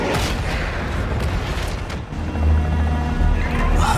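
An anti-aircraft gun in Call of Duty DMZ pounds away at a Hind D helicopter, a loud, continuous wash of booming bursts and rumble that swells again near the end.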